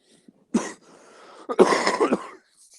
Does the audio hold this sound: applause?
no